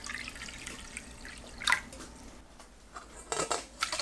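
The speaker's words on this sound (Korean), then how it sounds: "검은 콩과 쌀을 씻어서 물에 불립니다" Black beans and rice are washed in water, with soft close splashes, drips and sloshing in a bowl, fairly quiet with a couple of brief louder swishes.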